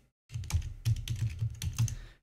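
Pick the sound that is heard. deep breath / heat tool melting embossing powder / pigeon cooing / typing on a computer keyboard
typing on a computer keyboard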